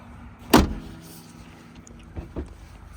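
The heavy hood of a 2015 Nissan GT-R slams shut with one loud, close thud, then two softer clunks follow as it settles, with quiet surroundings.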